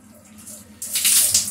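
Water wrung from freshly rinsed hair, a soft low trickle at first, then a louder, close splash and drip for the last half second.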